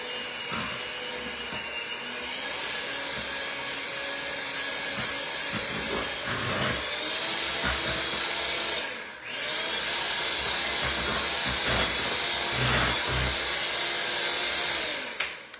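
A blender whirs loudly and continuously, briefly cutting out near the middle before spinning up again.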